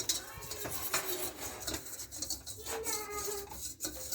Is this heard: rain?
no